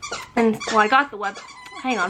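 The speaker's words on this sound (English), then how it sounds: "my dog is squeaking" A dog squeaks repeatedly in high, whiny yelps that come and go throughout, close by and mixed with a person talking.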